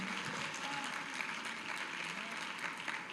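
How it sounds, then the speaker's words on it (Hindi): Congregation at a Hindi-language Christian sermon clapping steadily to thank the Lord, a dense, continuous wash of many hands applauding throughout, fairly loud and without a break. "ताली बजा के प्रभु को धन्यवाद दे"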